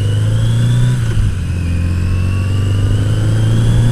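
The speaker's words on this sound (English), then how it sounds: "Out for a ride with my better half on my 1982 Yamaha XJ650 Maxim. 30-year-old bike." A 1982 Yamaha XJ650 Maxim motorcycle engine drones steadily while riding, a loud low hum that dips briefly then holds an even pitch throughout, close and continuous with no talking.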